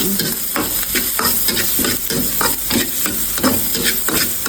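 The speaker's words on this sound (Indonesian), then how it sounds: "Kita tumis bawang bombay, bawang putih, dan bawang merah yang sudah dicincang." Chopped onion, garlic and shallots sautéing in a pan, a steady close sizzle and frying hiss with repeated stirring scrapes throughout, no talking.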